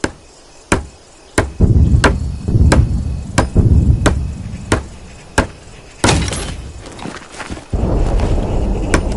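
Hammer strikes building a wooden barricade in the video game HLL Vietnam, a steady run of sharp, evenly spaced knocks close up, followed by rumbling impacts and a louder clattering noise toward the end.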